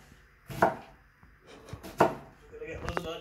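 An onion chopped with a knife on a board, two sharp separate knife strikes about a second and a half apart, followed by a quicker cluster of lighter cuts, close and clear.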